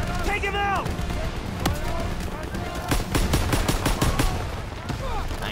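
Call of Duty WWII machine gun fire comes in loud rapid bursts with sharp cracks crowding the middle of the clip, mixed with battlefield noise and shouting voices.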